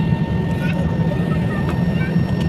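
Airliner at Indira Gandhi International Airport beginning its takeoff roll, a steady broad engine roar with a heavy low rumble that holds level throughout, heard from inside the aircraft.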